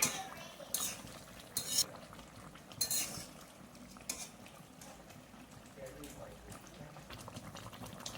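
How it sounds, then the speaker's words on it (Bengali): Fish curry boils in an uncovered pot with a steady bubbling hiss, broken by a few sharp clinks of a utensil against the pot, all close up. "এবার আমি ঢাকনাটা তুলে দিচ্ছি, দেখুন কত সুন্দর ফুটছে।"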